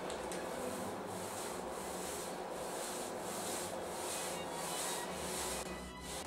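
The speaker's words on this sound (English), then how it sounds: "Distribute the gesso evenly." A brush spreading gesso across a wooden board, a steady dry scraping rub with soft rhythmic pulses of vertical strokes, close and continuous with no talk.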